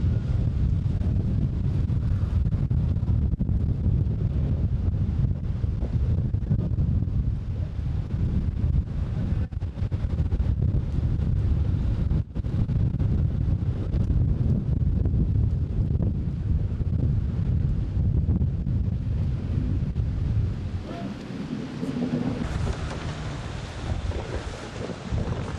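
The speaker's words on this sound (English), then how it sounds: "It is a bit windy" Strong wind buffeting the microphone at an offshore powerboat race on a lake, a loud continuous low rumble with gusty fluctuations that holds for the whole stretch and eases slightly near the end.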